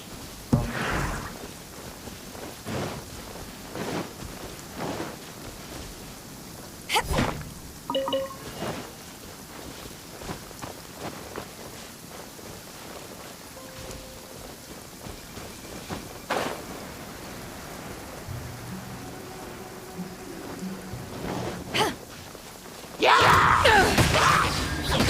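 Rain falls in the video game Genshin Impact as scattered drips and spatters over a soft wet hiss, with irregular sharper impacts and a louder burst of splashing near the end.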